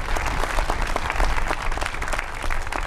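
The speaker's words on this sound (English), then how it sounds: "That was an applause line" An audience bursts into loud, close applause, dense clapping that stays steady for about three seconds without letting up.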